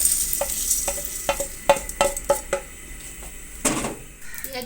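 Whole spices for a mixed vegetable pickle roasting in a pan, stirred with a series of sharp scraping clacks of a spoon against metal over a soft steady sizzle, close and without talk.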